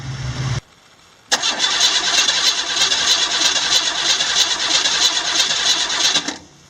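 A car engine cranks steadily on the starter during a relative compression test, with rapid even pulses for about five seconds after a brief pause, loud and close.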